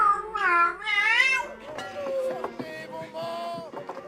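A cat meows in a series of drawn-out, wavering calls, loud and close, followed by softer, shorter mews outdoors.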